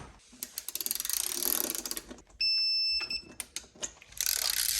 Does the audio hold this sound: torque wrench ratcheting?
yes